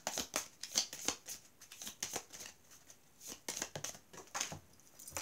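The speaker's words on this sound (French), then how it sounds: "Je vais quand même tirer notre carte." Tarot cards being handled and drawn from a deck, a series of soft, quick papery flicks and shuffling rustles, close and quiet, coming in short irregular bursts.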